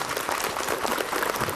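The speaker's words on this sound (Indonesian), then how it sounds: "Tepuk tangan buat Ustadz Maulana." Studio audience applause for Ustadz Maulana at an Indonesian show, a dense, steady wash of clapping hands, fairly loud and continuous without speech.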